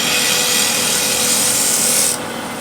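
A refiner woodturning tool scrapes a spinning wooden wheel blank on a lathe, producing a steady, loud broadband rasping hiss that runs continuously, then drops sharply in brightness near the end as the cut eases off.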